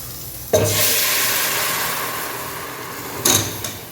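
Camel meat curry mixture hisses and sizzles loudly as it hits a hot pan, a bright steady frying sound that fades slowly, with clinks of utensils near the start and end.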